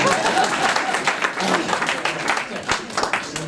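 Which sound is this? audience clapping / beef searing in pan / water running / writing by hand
audience clapping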